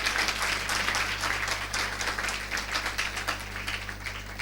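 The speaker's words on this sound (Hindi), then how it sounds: "अरे ताली नहीं बजाओगे अपने प्रभु के लिए?" Congregation at a Christian sermon clapping in a steady, moderately loud patter of many hands over a low electrical hum, with no pause.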